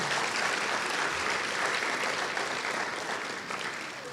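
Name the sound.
applause for award recipient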